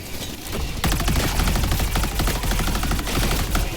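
Rapid automatic gunfire in the video game Helldivers 2 rattles on almost continuously, loud and dense, after a brief quieter lead-in.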